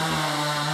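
Chainsaw cutting jungle mahogany timber into boards for a second floor, a steady loud droning whine held throughout.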